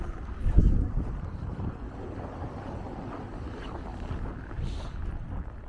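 Wind blowing during a snowy winter walk in Norilsk at minus ten degrees, a steady low roar and buffeting across the microphone throughout, loud and close with a heavier gust near the start, no talk.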